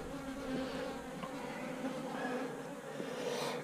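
Bees buzz steadily in a barn around someone handling honeycomb wax, a close, continuous drone with wings passing near and fading, no speech over it.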